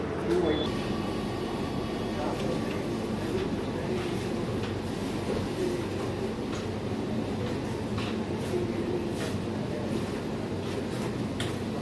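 Constant low hum and rumble of a Kochi metro train in motion toward Vyttila, heard from inside the carriage with faint murmuring voices in the background.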